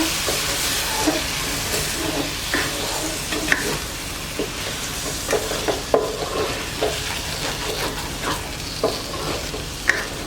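Lamb liver roast sizzling and frying in a pan, a steady crackling hiss with occasional sharper pops and stirring scrapes, close and continuous throughout.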